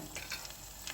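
Coconut and mustard seeds roasting in a pan give off a soft, steady sizzle with faint crackles, quiet and close, with no talking.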